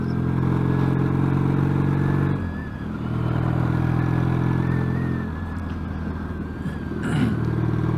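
A Yamaha XS650 motorcycle fitted with peashooter exhaust pipes rides along with a loud, close, steady engine drone. The note dips and rises as the rider eases off and accelerates, and wind and road noise run underneath.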